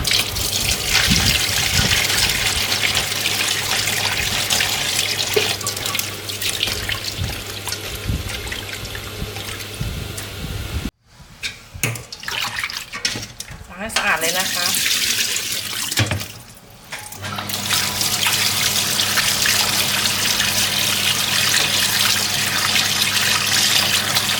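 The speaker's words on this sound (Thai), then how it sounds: "พอครบเวลาแล้วเราก็นำมาล้างน้ำออกให้สะอาดนะคะ" Liver that has been soaking is rinsed clean under a running kitchen tap, water gushing steadily into a sink for most of the time, with a short break midway before the flow resumes.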